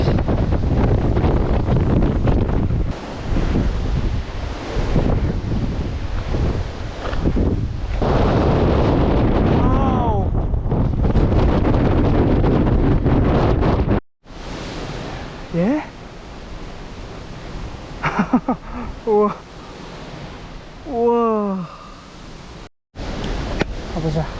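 Strong wind buffets the microphone on a rocky Seoraksan mountain ridge, a loud continuous roar that drops briefly and returns in gusts, with voices heard in the background.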